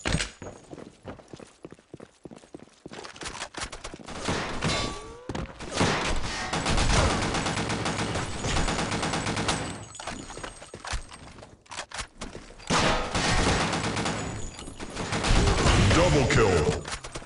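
Rifle shots ring out in an online shooter match, coming as rapid bursts and single cracks at varying distances over a busy game soundscape, with intermittent louder volleys.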